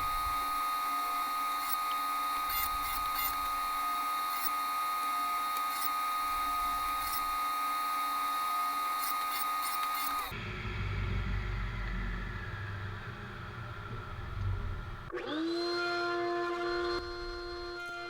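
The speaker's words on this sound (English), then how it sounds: "And now I'm making a groove on all four sides of the maple piece." A power tool cutting a groove along the sides of a maple piece for a walnut and curly maple jewelry box: a steady high whine, then a lower grinding as it bites, then a pitch change at the end.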